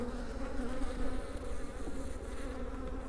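Honey bees hum in a dense, steady buzz at a homemade Styrofoam beehive that has just been given a honey super, with the swarm sound close and unbroken throughout.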